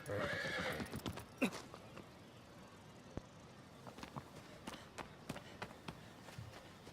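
A horse in the video game Shadow of the Colossus (2018) whinnies near the start, then hooves clip-clop in a quick, uneven rhythm, fairly quiet.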